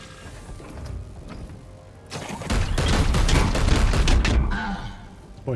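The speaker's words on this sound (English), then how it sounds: "Let's just shoot him again." Gunfire in the tactical video game Chaos Gate: Daemonhunters, a dense loud burst of rapid shots and thuds building after a quieter mechanical stretch, then tailing off near the end.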